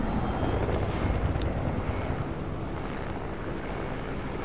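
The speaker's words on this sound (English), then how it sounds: "But then this chopper just rams me out of the earth." Helicopter in a video game roaring steadily with a broad, rumbling rotor-and-engine wash, loud and continuous throughout with no speech over it.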